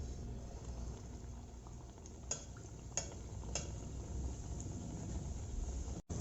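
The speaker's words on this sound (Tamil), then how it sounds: "ஒரு பீஸாக போட்டு அதை வந்து வறுத்து எடுத்துருங்க" Pieces of sweet tutti frutti swirl bun dough fry in hot oil over a medium gas flame, giving a steady dense sizzle and bubbling throughout, with a few faint utensil clinks near the start and middle.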